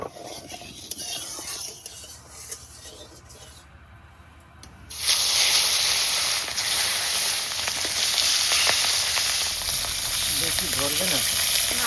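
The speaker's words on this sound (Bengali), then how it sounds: "মাছগুলো অল্প আছে ভাজা হতে থাকুক" Mustard oil sizzles in a pan, quiet and crackly at first, then bursting into a loud, steady frying hiss partway through as sea fish hits the hot oil.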